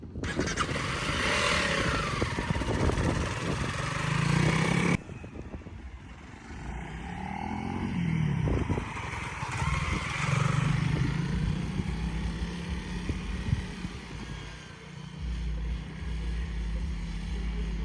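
A Honda CRF300L Rally motorcycle rides and brakes, its engine droning and swelling then easing in pitch under heavy wind rush. The bike sounds close throughout, with a sudden drop in wind noise partway through and no speech.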